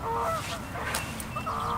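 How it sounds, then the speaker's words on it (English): Geese honk close by outdoors, a loud run of repeated honks and calls from several birds over low background rumble, with no talking. "there's geese right there that you can't see in the frame"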